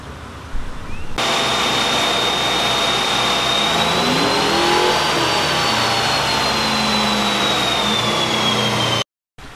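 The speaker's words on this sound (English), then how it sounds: "we got her strapped onto the dyno. Let's go ahead and make our baseline pull." A Procharger-supercharged SRT8 V8 strapped to a dyno for a baseline pull roars in one long, loud, sustained rev, with a high supercharger whine climbing and then easing, before cutting off abruptly near the end.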